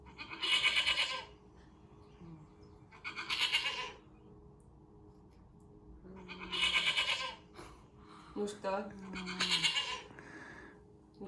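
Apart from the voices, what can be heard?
goat bleating, played recording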